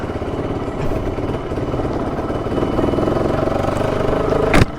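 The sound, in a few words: motorcycle engine running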